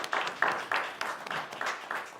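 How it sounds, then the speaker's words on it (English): Faint, brief applause at a city council meeting, a rhythmic patter of hand claps from a small crowd lasting about two seconds. "let's give them a big round of applause"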